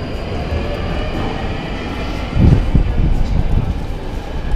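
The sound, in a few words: London Underground metro train at a station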